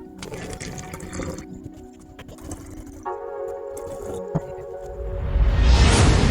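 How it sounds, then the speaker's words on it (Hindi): Water fills a plastic bottle for a two-bottle tornado vortex, with scattered handling and trickling noises at first, then a steady stream whose pitch sweeps upward as the bottle fills, growing louder toward the end. "इसमें 3 हिस्से का पानी भर देना है"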